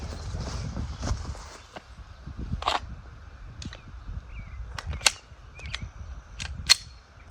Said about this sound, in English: We'll try with the Glock, see how that works.